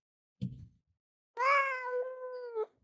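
A house cat gives a short rustle, then one long, clear meow that holds steady before trailing off, close and isolated in quiet.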